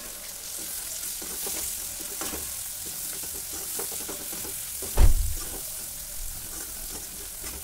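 Cut wild lemon pickle with salt cooking in a pan: a soft, steady sizzle with light stirring, and one sharp knock of the utensil against the pan partway through.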